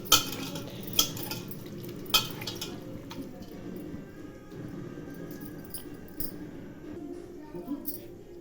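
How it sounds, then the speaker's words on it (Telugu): A spoon stirring a chicken biryani marinade of yogurt, oil and fried onions in a bowl, with a few sharp clinks against the dish and soft wet squishing, faint and close. "అలాగే 1 కప్పు ఆయిల్ వేసుకుందాము. ఫ్రై చేసుకున్న ఆనియన్స్ ఆయిల్ అండి ఇది. బాగా కలిపేద్దాము."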